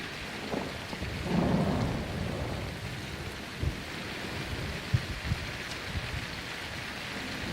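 Steady rain falls through a night thunderstorm, with a low rumble of thunder rolling in early and a few sharp cracks later, all close and continuous with no voices.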